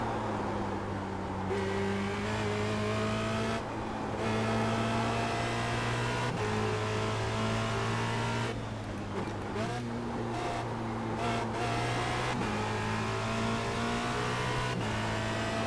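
A Formula Renault race car in iRacing howls around Spa-Francorchamps, its engine held loud and continuous while pitch climbs through each gear and drops sharply at repeated shifts and braking, with no talk.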